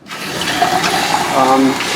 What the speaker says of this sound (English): all you have to do is turn on the hot water